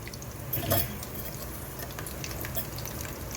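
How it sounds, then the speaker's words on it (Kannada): Mustard seeds splutter in hot oil for a tempering after peanuts have been fried, a short burst of crackling pops over a soft frying hiss, with no voices. "ಇದಕ್ಕೆ ಒಗ್ಗರಣೆಗೆ ಒಂದು ಸ್ಪೂನಷ್ಟು ಸಾಸಿವೆ"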